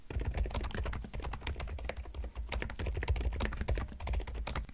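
Continuous typing on a mechanical computer keyboard produces a dense, fast run of close, crisp keystroke clicks with a low thocking body.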